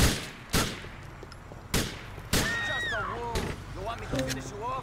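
Enemy gunfire in GTA 4 breaks out as several sharp, loud shots spaced about a second apart, with a voice talking in between and a vehicle rumble underneath.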